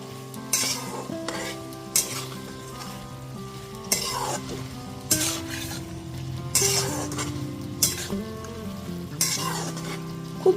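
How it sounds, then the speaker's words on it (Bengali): Fried kachki fish with chopped coriander and slit green chillies is stirred in a pan, with repeated metal spatula clinks and scrapes against the vessel roughly every couple of seconds over a continuous sizzle. "এরপর খুব ভালো মতো একটুখানি মিশিয়ে নিচ্ছি।"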